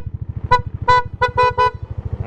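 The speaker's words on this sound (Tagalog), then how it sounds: "Testing natin busina." A Yamaha Aerox 155 scooter's horn gives five short honks in an uneven rhythm, with the idling engine pulsing steadily underneath, close and loud.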